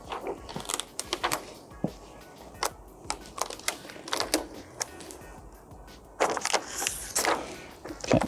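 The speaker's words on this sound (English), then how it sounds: "I'm get the knife, and whilst it's just here, let's cut it as kind of close to the edge as we can get it" A knife trims window tint film along the edge of a car window, giving a series of faint, irregular scraping and tapping sounds close by, with no talk.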